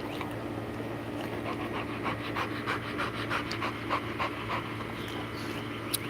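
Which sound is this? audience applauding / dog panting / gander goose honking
dog panting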